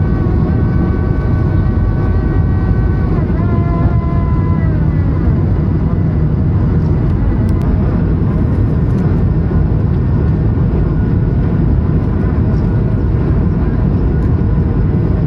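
Jet airplane taking off at sunset in Kumamoto, Japan, a loud, steady low roar of engines with a rising whine that carries on throughout.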